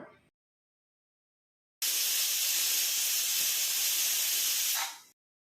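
A loud, steady burst of hissing steam from a pressure cooker whistle, cooking a Vinayagar Chaturthi festival offering, lasts about three seconds before cutting off into silence.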